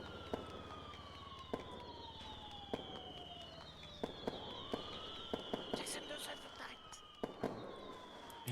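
Fireworks bursting at a wedding celebration, scattered sharp pops and crackles spread across several seconds over a steady background hum, with whistling streaks rising and falling between bursts; voices murmur faintly beneath.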